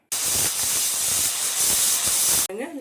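A pressure cooker whistle releases a loud, steady rush of hissing steam that lasts a couple of seconds, then cuts off abruptly.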